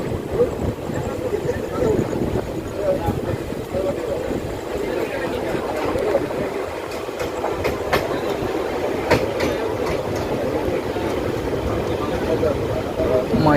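The Parasuram Express pulls into Kanhangad railway station with a steady rumble and clickety-clack of wheels, loud and close, while a voice talks over the noise.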